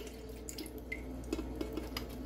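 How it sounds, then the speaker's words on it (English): Orange juice trickles and drips steadily into a blender in a quiet room, a soft, close pouring sound with occasional small splashes and no voices. "just slowly pour that in."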